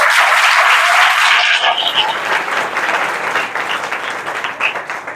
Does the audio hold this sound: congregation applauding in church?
yes